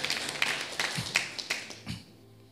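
Congregation in a church service clapping hands, a handful of scattered, fairly crisp claps spread over a couple of seconds rather than sustained applause, with no talk over them.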